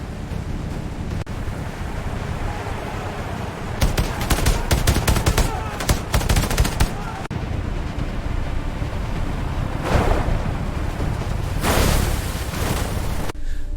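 Sustained gunfire during an army attack: dense rattling bursts and volleys over a constant roar of noise, louder in stretches, with no voices heard.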